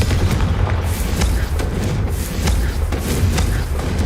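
Loud, dense rumbling blasts with a string of sharp impacts from the Confringo spell blowing apart objects in Hogwarts Legacy, a steady roar of explosive energy throughout with no talk.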